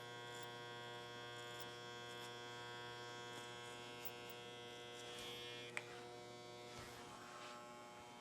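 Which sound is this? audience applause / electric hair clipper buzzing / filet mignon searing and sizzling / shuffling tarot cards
electric hair clipper buzzing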